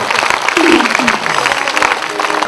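An audience at the CLC Vijyotsav celebration claps with raised hands, steady, loud and close, continuing throughout while a voice talks over the clapping.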